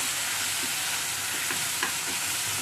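Spice paste for a Bhetki fish curry fries in oil in a pan, a constant loud sizzle with soft scraping strokes of a spoon stirring through it.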